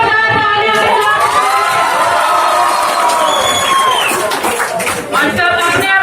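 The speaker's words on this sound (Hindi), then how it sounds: "आप सभी से गुजारिश करेंगे जोरदार तालियां" Audience at an Independence Day celebration at a school academy, with loud crowd noise, cheering and children's shouting filling the whole clip and only light clapping mixed in.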